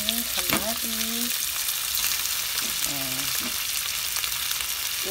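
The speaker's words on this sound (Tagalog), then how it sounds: "Gigisa muna natin, pipirituhin ulit." Pork spare ribs and tomatoes sautéing in a pan, a steady soft sizzle close by, with a few brief tonal squeaks and clinks from utensils.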